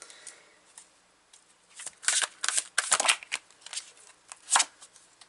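Tarot cards are shuffled on a hard table surface, with a run of crisp riffling bursts and slaps, some louder than others, heard up close with no talk.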